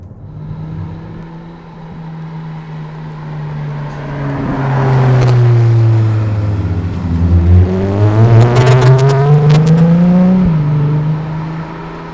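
Ferrari 296 GTB engine revving while driving, a loud, steady drone that climbs and falls through rising and dipping pitch sweeps, building to a near, strained peak before easing off.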